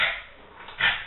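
A dog gives two short yelping barks indoors at bath time, close and brief, with a quiet gap between them.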